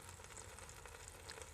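A ribeye steak sizzles steadily while cooking, a dense continuous frying hiss with faint crackles, heard close and alone.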